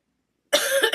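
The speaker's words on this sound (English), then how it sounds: "I apologize for all the coughing and hacking and wheezing and stuff" A harsh, throaty cough from someone ill, starting abruptly after half a second of silence and running as a loud, close burst with a couple of rasping pulses.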